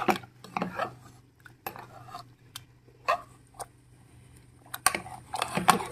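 A spoon mashing cooked mustard greens saag with garlic, onion and ginger in a pot, giving irregular metallic clinks and scrapes separated by quiet gaps.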